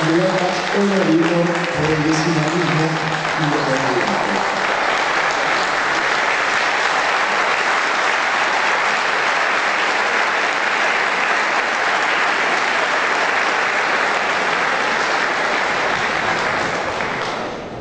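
Sustained audience applause at a public candidate forum, dense and steady for well over ten seconds and fading slightly at the end, with a voice speaking over the first few seconds.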